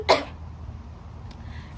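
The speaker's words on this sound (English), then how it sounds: "I don't know why I keep coughing." A single sharp cough bursts out at the start, followed by quiet room tone and a faint click.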